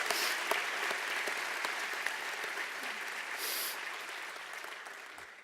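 A hall audience applauds steadily for coach Pat Summitt of the University of Tennessee at a Virginia Sports Hall of Fame induction, a dense, sustained wash of clapping that slowly tapers over several seconds.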